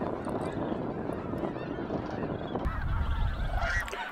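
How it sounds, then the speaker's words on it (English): Flocks of geese honking at dawn at Bosque del Apache wildlife refuge, a constant overlapping chatter of many birds at middle distance, louder and lower-pitched honks crowding in toward the end. "the geese seem to be doing the same thing as the cranes. Now, the big difference is the chatter never stops"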